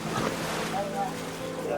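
Ocean waves washing onto a beach where shellfish are gathered, heard as a continuous rushing surf with wind noise buffeting the microphone, nearby and fairly loud.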